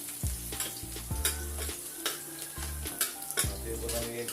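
Garlic frying in hot oil in a pan for pancit with squid, a steady sizzle under repeated stirring scrapes and light utensil clicks, close and moderately loud, no talk.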